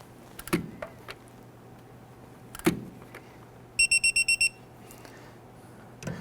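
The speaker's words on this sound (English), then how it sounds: "Let's go ahead and torque this down to 40 foot-pounds." A torque wrench tightens the idler pulley bolt on a 2012-2017 Toyota Camry, with a few sharp metallic clicks and a short burst of six electronic beeps, heard alone against a faint steady hum.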